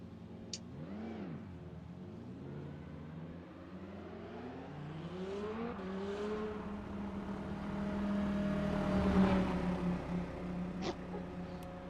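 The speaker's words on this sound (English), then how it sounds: "the sound of these cars are absolutely spot on in this game" GT3 race car engines in the racing game rFactor 2 at Buriram (Chang circuit) rev and whine through rising and falling pitch sweeps, with cars passing close by and the sound swelling loudly toward the end.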